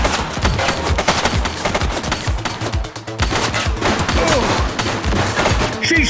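Sustained gunfire in the video game The Precinct, with rapid shots and automatic bursts rattling loudly for several seconds. A brief lull comes partway through, then the shooting picks up again.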